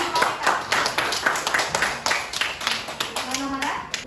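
Audience at a university teaching-practice program clapping for students, a dense run of close, sharp handclaps with voices, including children's, chattering underneath.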